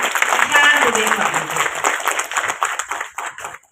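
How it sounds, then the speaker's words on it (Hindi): A crowd at a Hindi poets' gathering (kavi sammelan) applauds to welcome the poet Ishan Dubey to the stage. The clapping is brief and moderately loud, with voices and other stage sound mixed in. "आप लोग जोरदार तालियां बजाकर ईशान दुबे को"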